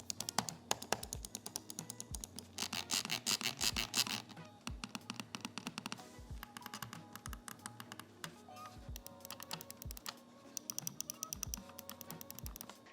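Clicking switches of a Razer Mamba Wireless mouse, sharp close clicks repeated in quick irregular bursts and steady runs, loud and dry with no talking.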